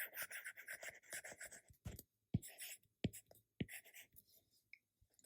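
Writing on a lecture board: a run of scratchy strokes and short taps in an irregular rhythm, with brief pauses between marks, close and clear.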